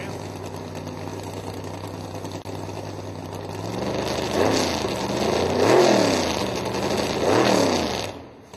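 Nitrous-powered drag racing car engine at a drag strip, a low droning idle that rises into repeated revving surges and swells, fairly close and loud, with faint crowd or announcer noise beneath.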